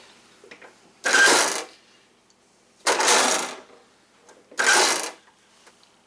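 A latch mechanism on a teardrop trailer hatch, worked by a handle connected to rods, makes three separate metallic rattling clunks at a steady pace, close and fairly loud in a quiet space.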